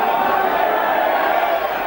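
A crowd at the 1996 World Snooker Championship match between Peter Ebdon and Jimmy White gives a steady, loud roar of cheering and applause that lasts the whole moment.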